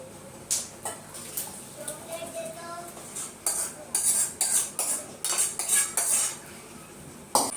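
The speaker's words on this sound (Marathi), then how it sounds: "ही वांग्याची भाजी मी एका या पातेल्यामध्ये काढून घेते" Cooked brinjal curry is scraped and spooned from the pan into a pot, with repeated metallic clinks and knocks of a spoon against cookware in quick uneven bursts, close and moderately loud.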